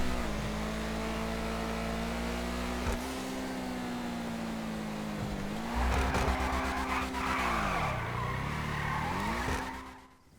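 Car tires squeal and skid through a long drift in GTA 5, with a steady engine drone that rises and falls as the car slides, loud and close, ending abruptly.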